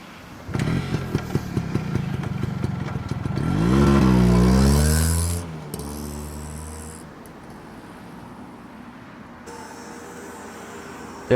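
A motorcycle idles with a ticking, pulsing rhythm, then revs up loudly and pulls away, its engine note rising and fading into the distance.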